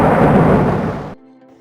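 A thunder and lightning sound effect for an animated logo: one loud, booming crack that rumbles for about a second and then cuts off abruptly into near silence.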